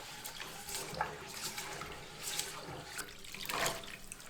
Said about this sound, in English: I fill up my sink and I give it a scrub.